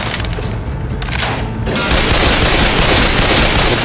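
Left 4 Dead 2 gunfire in a zombie-filled hotel: loud, rapid, continuous bursts of shots and impacts that thicken and intensify partway through, with no talk over them.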